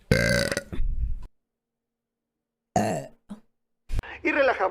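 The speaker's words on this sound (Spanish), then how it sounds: "Voy a eructar, chat." A woman lets out a few loud, close burps in separate bursts across a few seconds, with a long silent gap between the first burst and the later ones; she talks briefly in between.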